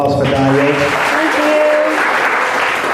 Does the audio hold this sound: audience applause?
yes